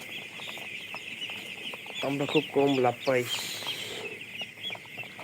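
Chickens on a poultry farm cluck in a quick burst of repeated calls near the middle, close and clear, while someone speaks quietly before and around them.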